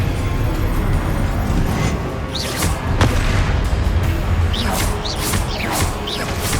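Confringo spell blasts in the Hogwarts Legacy video game land as loud booming explosions and crashes with whooshes, over a constant roaring battle din.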